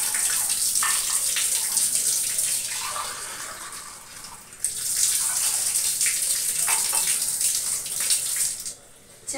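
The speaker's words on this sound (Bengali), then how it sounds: "চায়ের জল মেপে নিচ্ছি।" Tap water runs steadily into a pot in a home kitchen as water is measured for tea, a continuous hissing flow with a short break partway through and a pause near the end.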